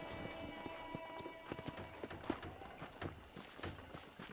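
Horse hooves clip-clop at a steady walking pace in the Red Dead Redemption western video game on a ranch, moderately close under a faint bed of game ambience, with no talking.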